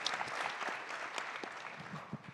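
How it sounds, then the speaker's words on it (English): A panel audience claps in a short round of steady applause, moderately near and without any talk over it. "one more round of applause for including Russ"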